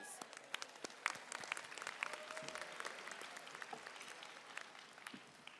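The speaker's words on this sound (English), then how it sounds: "Please give yourselves again a round warm of applause." New pharmacy graduates at a university convocation applaud themselves, a faint, distant patter of many hands clapping in a large room, scattered sharp claps standing out over the quiet crowd.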